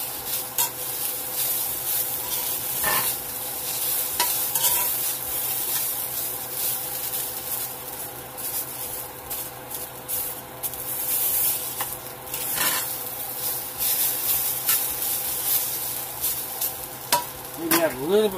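Home fries sizzle steadily in oil in a pan, a close continuous hiss broken by scraping and stirring strokes, with no talking.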